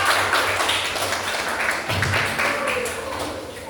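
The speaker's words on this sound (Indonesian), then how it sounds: "Kasih tepuk tangan buat kelompok 4." A classroom audience claps for a student group after its presentation, a continuous patter of hand claps close to the recorder that runs through the whole moment without talk.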